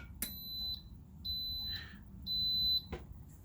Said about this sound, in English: The Instant Pot beeps a lot.